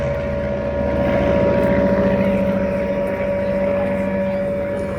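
Propeller engine drone of a Focke Wulf 190 and Spitfire warbirds flying a dogfight demonstration at an airshow, a steady loud sustained roar with a constant tonal hum, distant and unbroken throughout.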